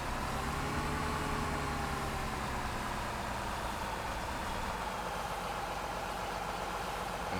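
A combine harvester engine in Farming Simulator 2017 drones steadily at idle, a continuous low hum with faint tonal whine held evenly throughout, no voices.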